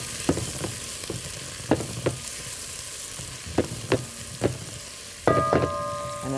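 Onions frying in a pan along with fish, a steady sizzle under repeated sharp clinks and scrapes of stirring, with a brief ringing tone near the end.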